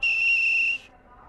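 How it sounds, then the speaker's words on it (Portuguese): One sustained, shrill whistle blast lasting just under a second opens a Bumba Meu Boi folk song performed by a folk group at a traditions gathering, then cuts off into quiet. "Toda vez a gente começa apitando e apito para encerrar também."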